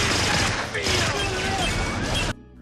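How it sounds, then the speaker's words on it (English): Dense, chaotic burst of gunfire and mechanical clatter from a film scene with a bomber shooting at a man near a bus, loud and sustained before cutting off abruptly. "The mad bomber has a gun and is shooting at Jack."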